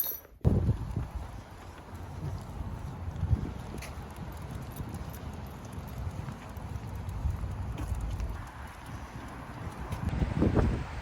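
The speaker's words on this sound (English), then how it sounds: "It's not that bad out, but it is windy" Steady wind buffets the microphone with a low rumbling roar, gusting harder at moments, with no talking.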